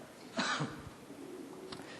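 A single short, close cough from a man giving an indoor lecture, followed by quieter throat noise in a reverberant room.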